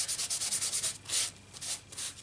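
An embossing buddy is rubbed briskly over paper and cardstock, a rapid series of close, soft scratchy swipes in an even rhythm.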